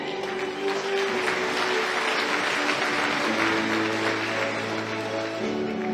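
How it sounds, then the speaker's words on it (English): Audience applauding a speaker being welcomed to an AI forum, dense sustained clapping filling a large hall, with a steady tonal hum running beneath it. "give a round of applause to one of our very own favorite son of Taiwan"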